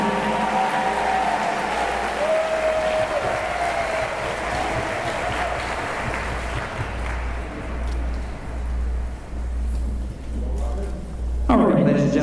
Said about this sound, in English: Give my principal a big round of applause